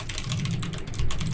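Sticky keyboard keys being typed on in a quick, steady clatter of close clicks over a low background hum.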